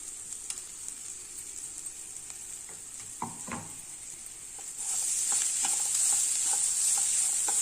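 Masala being sautéed in a pan while making capsicum rice, a steady low sizzle with scattered stirring clicks and scrapes that grows louder and brighter partway through, with no voices.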